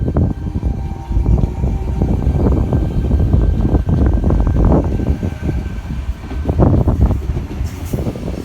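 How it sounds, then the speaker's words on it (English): A Sydney Trains XG set departs the platform at Mortdale station on the T4 line, a loud, steady rumble of wheels and traction motors rising and swelling throughout. "Hurstville service, departing platform 1, Penshurst and Hurstville."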